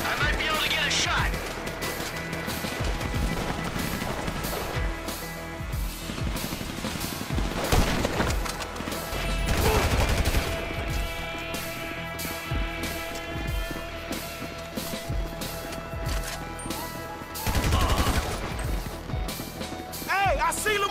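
Sniper and other gunfire in a video game cracks out in bursts of sharp, loud shots and booms within a dense, busy battle mix, heard under shouting voices.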